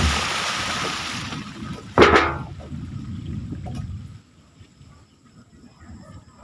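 A drum being rinsed out with water: running water, then a sudden loud splash and slosh, fading to a faint trickle near the end.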